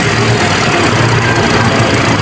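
A Toyota Altis engine with a failing ignition coil runs with a misfire, giving a loud, steady close-up drone with an uneven, faintly knocking pulse and no voices.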